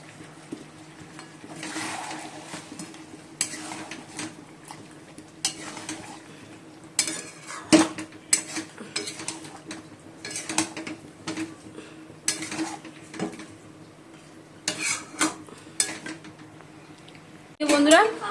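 Chicken and curd being stirred in a pot, a spoon scraping and clinking against the metal in irregular bursts with a soft sizzle underneath, close and moderately loud.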